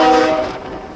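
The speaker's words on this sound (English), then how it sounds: "train approaching" A CPKC empty coal train rumbles past a crossing with a loud horn blast at the start, the steady tone fading as the rail noise continues and gradually softens.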